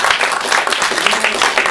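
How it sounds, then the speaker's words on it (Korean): Studio audience applause at a televised Korean lecture program, loud dense clapping from many hands sustained throughout with a faint crowd murmur. "네, 여기서 여러분 큰 박수 좀."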